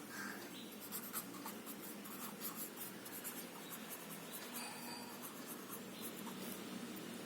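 Marker or chalk writing on a classroom board during a maths lesson, a steady scratchy rubbing that runs quietly and continuously throughout, with no talking.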